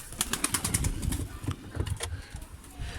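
Pigeons released from a coop take to the air, with a flurry of rapid wing flaps and fluttering close by, then lighter scattered flapping as the birds spread out.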